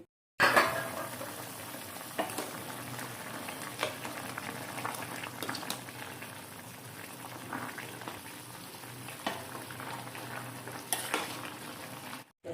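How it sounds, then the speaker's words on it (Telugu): A chikkudukaya (broad bean) tomato curry simmers in a pot on a stove over medium flame, a constant soft bubbling and hiss heard close, broken by occasional light clinks of utensils against the pot. "మనం వేసుకున్న ఆ వాటర్ అంతా కొంచెం దగ్గర పడుతుంది కదా, ఎంత మంచిగా ఉడుకుతుందో"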